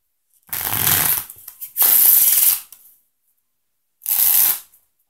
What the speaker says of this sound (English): Show you another way to find your card is by giving it a little shuffle.